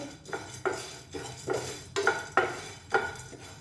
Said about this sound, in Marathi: आता आपल्याला हे डाळ थोडंसं गरम करून घ्यायचे खूप जास्त भाजायचं नाही आहे